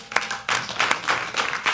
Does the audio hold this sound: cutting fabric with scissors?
no